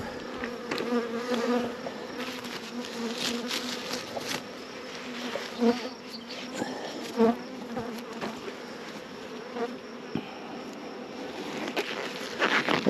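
Honeybees buzz steadily around an open hive during a June inspection while honey supers are being added, a dense droning swarm close by, with occasional soft knocks and shuffling from handling the equipment.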